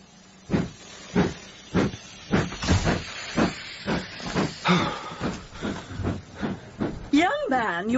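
A steam train in a radio play sound effect puffs in a regular chuffing rhythm with sharp hissing bursts, then a whistle sounds near the end, loud and close.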